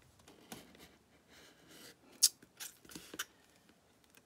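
Scissors cutting away material while making wooden candy corn shaker tags, a series of quiet, crisp snips with one sharper cut near the middle, alone with no talk.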